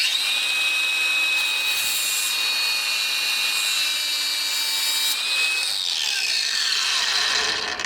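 A Hercules 20V paddle-switch angle grinder takes surface rust off metal with a loud, steady high whine and a gritty scraping edge, nearly eight seconds long, then winds down at the end, with no talking.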